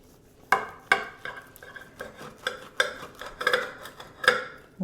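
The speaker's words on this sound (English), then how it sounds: "I think I'm going to cut right in the middle." A knife sawing and tapping through a freshly baked homemade stromboli, producing a run of crisp crunches and clicks against the board, close and fairly quiet.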